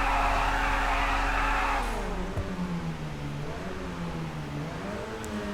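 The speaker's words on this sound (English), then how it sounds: "Can we do a burnout? Oh, you can." Burnout in a Bestia GTS, a Ferrari FF-style grand tourer in GTA 5: a loud engine held at high revs with screeching tyres, then the pitch drops and the engine rumbles and revs unevenly, with no talk.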